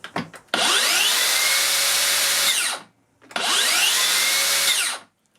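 Makita 40V plunge saw motor spins up twice with a soft start, each run a loud, steady high whine lasting about two seconds before winding down quickly, with a brief pause between the two runs.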